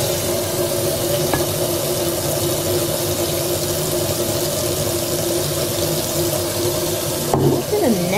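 A container filling from a kitchen tap while making cold brew coffee: a steady, close hiss of running water that continues without a break, with a brief clatter near the end.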